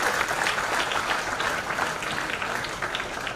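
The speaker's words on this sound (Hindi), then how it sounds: "एक बार तालियों की गड़गड़ाहट से हाल गूंजना चाहिए" A hall audience at a university convocation ceremony applauds, a dense sustained wash of clapping from many hands that fills the room evenly from start to finish.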